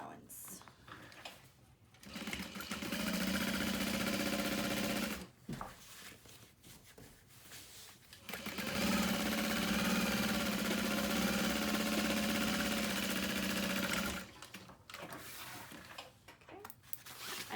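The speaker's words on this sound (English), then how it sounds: "we'll just top stitch along this top panel through the seam" A sewing machine set to a long stitch length top stitches along a bag panel through the seam allowance. Two sustained, fast whirring runs are separated by short pauses, close and steady.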